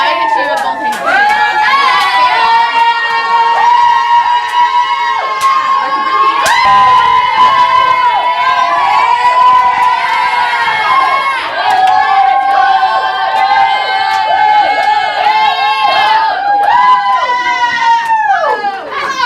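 Crowd at an Idaho State volleyball game cheering and shouting continuously, with high, excited voices layered into a loud, sustained roar that stays steady from start to finish.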